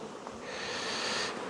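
Honeybees buzz at the hive, a soft continuous hum that swells slightly and holds for a moment, with no voices.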